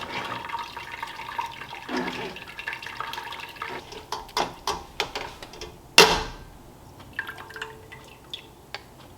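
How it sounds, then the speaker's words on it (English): A big cooking pot being rinsed out under running water, with drips, splashes and clattering handling sounds, and a sharp burst of splashing near the middle, close and fairly loud. "I'm gonna go ahead and clean out my big pot"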